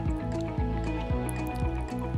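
Water squeezed by hand from soaking-wet wavy hair drips and trickles in a shower, giving a close, continuous wet patter with a few louder splashy drops in an uneven rhythm.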